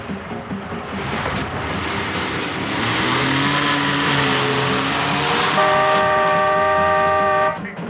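A borrowed car driving and revving, its engine rising in pitch and holding a strained, loud tone for several seconds before cutting off abruptly.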